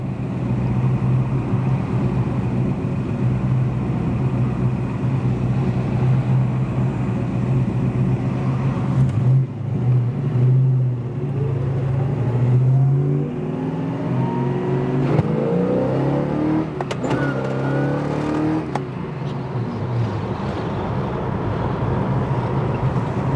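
A 1972 Chevelle pulls hard, its loud, close engine note rising steadily through the revs for several seconds, then easing off toward the end over a constant drone of road and cabin noise.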